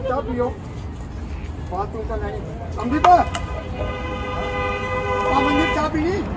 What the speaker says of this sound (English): you see people honking there